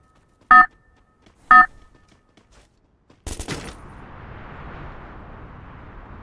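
Gunfire in a mobile battle-royale game: two sharp, loud shots spaced about a second apart, then a burst of rapid fire that gives way to a lingering wash of noise.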